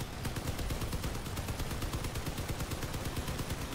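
Cannon fire in the vehicle combat video game Crossout, a 25 mm gun letting off a rapid, evenly spaced string of loud, sharp shots that continues without pause.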